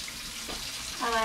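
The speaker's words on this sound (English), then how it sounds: "I'm going to start by running some warm water into the sink" Warm water running from a tap into a kitchen sink, a short soft hiss of flowing water that strengthens at the end, with a voice speaking over it.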